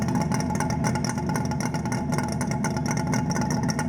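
A Kawasaki motorcycle engine running with its exhaust baffles removed, a steady loud rumble close by, holding an even raised rev throughout with no voices.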